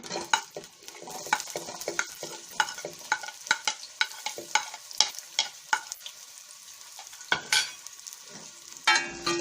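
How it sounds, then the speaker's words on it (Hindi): Onions fry in hot cooking oil as they are stirred, a crackling sizzle punctuated by a quick, rhythmic series of loud scraping spatula strokes against the pan, with no talking. "अब हम प्याज को ब्राउन करेंगे।"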